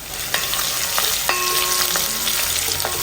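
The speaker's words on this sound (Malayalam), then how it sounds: "ആ ഉള്ളിയൊക്കെ വയന്ന് ഒരു ഗോൾഡൻ നിറാവുന്നത് വരെ ഒന്ന് ഇളക്കി കൊടുക്കാം" Crushed small shallots sizzle steadily in hot oil in a pan while a spoon stirs them, with occasional scraping clicks against the pan over the constant frying hiss.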